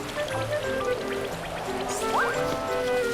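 Rain patters and trickles continuously in a Yoshi platform game, a soft watery wash running beneath light musical tones and small chirpy game effects, steady throughout.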